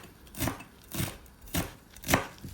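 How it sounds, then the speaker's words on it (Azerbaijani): Parsley being finely chopped with a knife on a board, four distinct crisp chops spaced about half a second apart, close and without voices. "Cəfərini xırda-xırda doğrayırıq."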